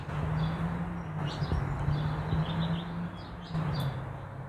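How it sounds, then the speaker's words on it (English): A house finch pair, male and female, gives short, scattered high chirps outdoors, a few brief calls over steady low background hum. "We've got a house finch pair on the right, the male and the female."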